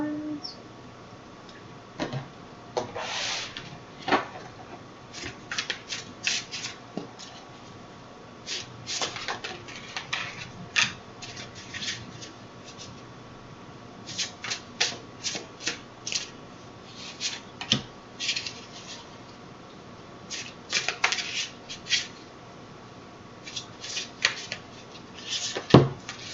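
Tarot cards being shuffled and handled during a card reading, a series of soft, crisp riffling and slapping bursts spread irregularly across a quiet room, close and moderately loud, with brief pauses between shuffles.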